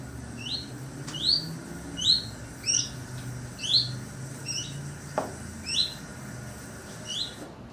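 Common redstart calls ring out as a series of short, bright rising chirps, about eight evenly spaced notes over a faint low background hum, clear and fairly close.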